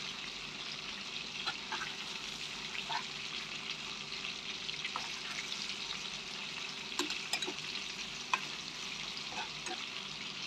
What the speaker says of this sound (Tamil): திருப்பி விட்டதுக்கப்புறம் 2 நிமிஷம் மீடியம் ஃப்ளேம்லேயே ஃப்ரை ஆகிட்டுருக்கு.